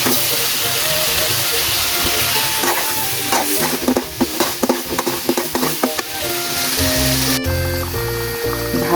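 Curry poured into fried masala in a pan, sizzling and hissing steadily with stirring scrapes and clinks throughout, close and fairly loud, no talk.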